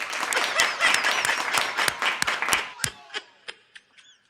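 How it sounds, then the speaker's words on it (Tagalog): A small group claps in quick, sharp strokes that thin out to a few scattered final claps, close and fairly loud, with faint voices and laughter mixed in. "Ba't ka pumapalakpak?"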